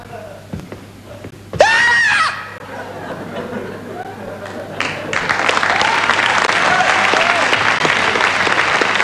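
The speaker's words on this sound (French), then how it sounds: "On applaudit" Audience applause and cheering in a French comedy sketch, rising into sustained crowd clapping with shouts after an earlier brief burst of sound and some voices.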